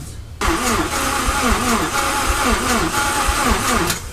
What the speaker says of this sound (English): we're gonna start priming the motor with oil